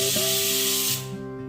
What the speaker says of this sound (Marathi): कुकरची 1 शिट्टी झाल्यानंतर